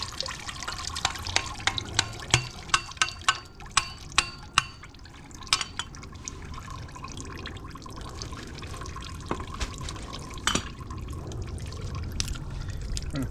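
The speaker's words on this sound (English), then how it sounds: "Still got a good bit of water in it." Coolant water drips and splashes steadily from a Kia Soul 2.0 engine part during timing belt replacement, with a run of sharp hammer taps early on, over a constant trickling wash.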